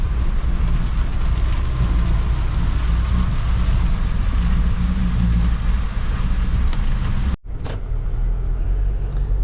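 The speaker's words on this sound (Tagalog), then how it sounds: "Ang lakas ng ulan." Heavy rain from a typhoon pours down at a construction site, a loud steady roaring hiss with low rumble that continues unbroken, briefly cut by a sharp dropout near the end, with no talking.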